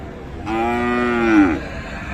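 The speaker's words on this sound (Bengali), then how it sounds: "এগুলো কিন্তু বকনা বাচ্চা" Heifer calves at a cattle market let out a single loud, drawn-out moo close by, lasting about a second with a strong harmonic tone that rises slightly before tailing off, over a low crowd murmur.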